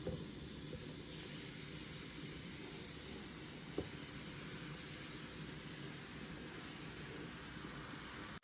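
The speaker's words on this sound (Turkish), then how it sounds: "Yağımız yeterince kızdıktan sonra rendelediğimiz pancarlarımızı tavamıza aktarıyoruz." Grated beetroot frying in hot oil in a pan, a steady loud sizzling hiss that runs throughout, with one brief clatter partway through and no talking.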